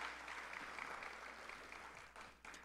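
An audience at a public conversation on national arts and culture policy gives a steady, faint wash of applause that runs throughout and thins out near the end.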